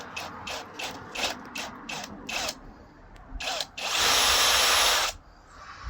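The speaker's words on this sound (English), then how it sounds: "We're now going to use a 10mm drill, and we're just going to drill through them." Drill fitted with a 10mm bit boring through a metal gate for anchor bolts, starting with several short ratcheting bursts, then a sustained loud, shrill whine of the bit cutting steel, close by with no talking.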